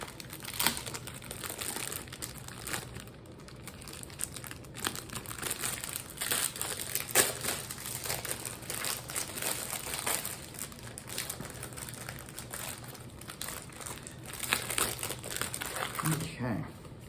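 Wax packs of 1980s-era baseball cards are torn and crinkled open close to the microphone, with steady crackling paper and wrapper noise mixed with someone talking throughout.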